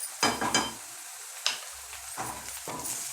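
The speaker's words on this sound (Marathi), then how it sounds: "हे बारीक गॅसवर जरा आपण फ्राय करून घेऊया." Onion, green chili and ginger-garlic paste frying on low flame for besan pithla: a soft sizzle broken by several bursts of spatula stirring and scraping, one sharp clink midway, no voices.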